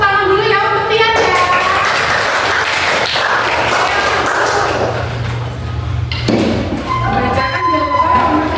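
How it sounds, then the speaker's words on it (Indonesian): Classroom applause for a student: a room of children claps together loudly for several seconds, a dense patter of hands, with a voice speaking before and after. "kita kasih tepuk tangan dulu ya untuk Tian ya"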